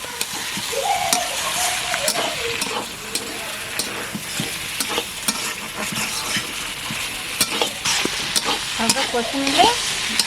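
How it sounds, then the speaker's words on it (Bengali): Spiced fish and vegetables fry in a pan while being stirred, giving a steady loud sizzle broken by repeated scraping and clinking of the spoon against the pan, with someone speaking briefly now and then. "দিয়ে বেশ কিছুক্ষণ একটু নাড়াচাড়া করে নেব ঠিক দু থেকে তিন মিনিট"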